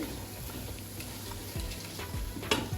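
Spices frying in a pot for a biryani made with Eid sacrifice meat, a steady low sizzle with a few soft stirring scrapes and a sharper clink near the end.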